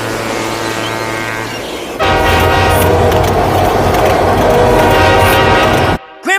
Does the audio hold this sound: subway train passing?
yes